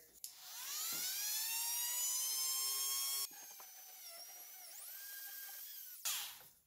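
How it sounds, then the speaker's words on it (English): A Dremel rotary tool with a wire brush whines at high, steady pitch while cleaning rust from the inside of a broken plastic molding stud; the tone holds loud, drops and shifts pitch partway, then revs up briefly before stopping. "I'm going to start off by using a wire brush and just wiring the inside here"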